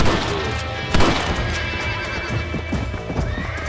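Hooves pound in a fast gallop with a horse neighing in Red Dead Redemption, loud and close over a dense game soundscape with a sudden thump near the start.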